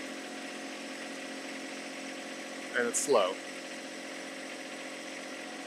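A John Deere 1025R compact tractor engine runs steadily at wide open throttle with a loader working, a constant mid-level drone heard throughout, briefly under a short stretch of speech.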